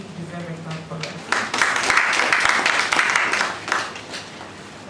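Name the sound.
audience applause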